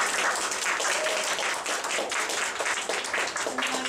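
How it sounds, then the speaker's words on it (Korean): Sustained applause from a crowd at an amateur orchestra's year-end concert, dense and steady clapping filling the whole stretch at fairly even loudness. "큰 박수로 맞아주십시오"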